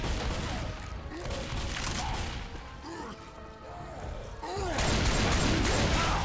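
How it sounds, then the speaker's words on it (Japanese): Gunshots in Left 4 Dead 2 as a Hunter is shot, with repeated sharp blasts and impacts clustered through the clip, partly overlapped by excited talking. "ハンターがいたから撃ったら。"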